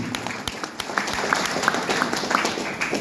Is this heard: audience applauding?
yes